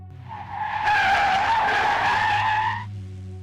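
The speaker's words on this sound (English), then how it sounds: "A Renault van came speeding in behind him." A Renault van speeds in with its tyres skidding in a loud, sustained screech that swells after a second, holds for about two seconds, then cuts off, over low engine rumble.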